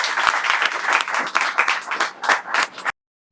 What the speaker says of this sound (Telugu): ఇక్కడ ఉండే 2 తెలుగు రాష్ట్రాల విద్యార్థులు చప్పట్లతో స్వాగతాన్ని తెలియజేస్తున్నారు